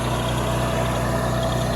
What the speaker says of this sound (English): This rig right here has got its own motor in it, guys.